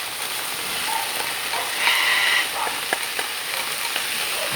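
Onion, carrots and capsicum sizzle and fry in a pot while being stirred, a steady close crackle with a few scraping stir sounds and no talk.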